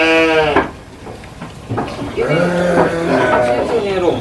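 Goats bleat in wavering, nasal cries, several calls close together, with a person talking between them.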